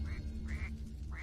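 A bird in distress gives three repeated, nasal, quacking cries at a steady rhythm, sounding close and clear over a low background hum.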